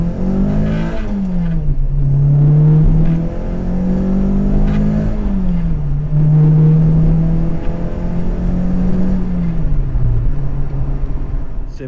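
Renault Sport Clio 172 Phase 1 exhaust under hard acceleration, a loud, continuous engine drone rising in pitch through the revs, dipping at gear changes and climbing again, with no talking.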